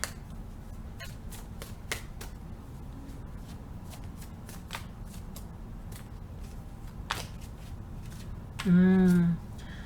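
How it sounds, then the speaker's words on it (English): Tarot cards being shuffled by hand make a series of crisp, close riffling flicks at an uneven pace, with a short burst of speech near the end. "I'll just shuffle this way."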